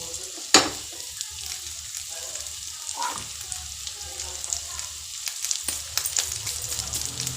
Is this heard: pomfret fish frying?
yes